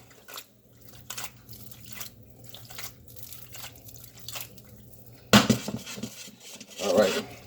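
Penne alla vodka tossed in a pan with sauce and grated Parmesan, giving soft scraping and clattering pan sounds, then a sharper clatter of the pan and utensils near the end, close and moderately loud.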